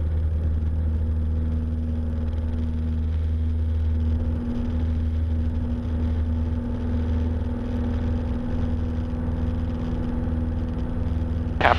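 A Cessna 172 light aircraft engine at full power during the takeoff roll: a steady, loud drone with a deep, even hum that holds constant throughout, with no voices.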